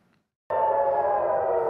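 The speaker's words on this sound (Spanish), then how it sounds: "Sirenas ante la llegada de cohetes en Haifa y Tel Aviv." Air raid warning sirens sound over Haifa and Tel Aviv as rockets approach, a sudden, steady, loud wailing tone that begins after a brief quiet moment and holds without speech.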